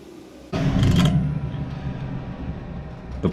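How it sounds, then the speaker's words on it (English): A power saw blade starts up abruptly and grinds across wood, smoothing grooves on a rustic bench, a loud close whir and rasp that eases into a steady hum. "I turn the saw blade on"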